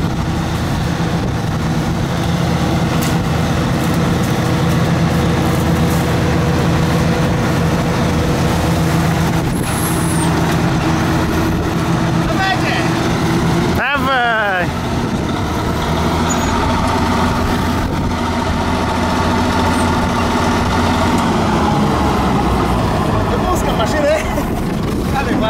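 An Ursus 385 tractor drives along at a harvest festival, its engine a loud, continuous diesel rumble throughout, with a brief whoosh of another vehicle passing midway and people talking over it.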